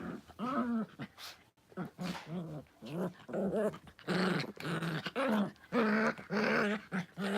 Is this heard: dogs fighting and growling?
yes